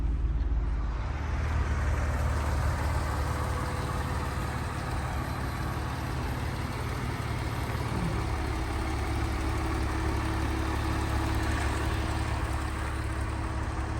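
A Porsche 991 GT3 with 152,000 miles idles steadily and smoothly, a constant low engine drone with no revs or speech, quiet and even throughout.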